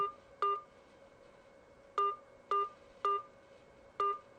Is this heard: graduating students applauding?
no